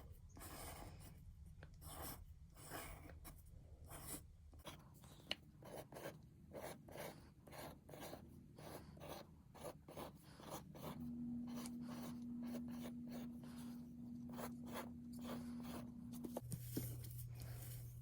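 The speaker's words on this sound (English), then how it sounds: "I like to rotate the paper as I go, because that sometimes makes it easier when you're drawing these heart shapes" A pencil draws heart-shaped sunflower petals on paper, making quiet, rhythmic scratchy strokes with short pauses between them, close and faint with no voices.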